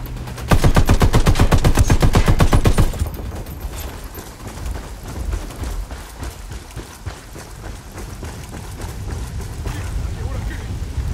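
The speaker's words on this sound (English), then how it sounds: "Taking a shot." Gunfire in the video game Ghost Recon Wildlands opens with a loud, fast, evenly spaced burst lasting a couple of seconds, then continues as scattered shots and background combat noise, with voices speaking over it.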